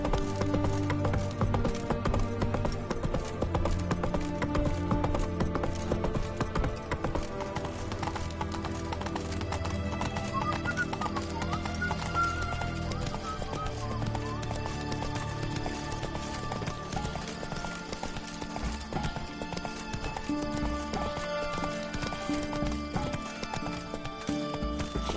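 Hooves of Roach, a horse in a video game, clip-clopping in a steady trotting rhythm, close and continuous, mixed with game sounds and occasional snorting.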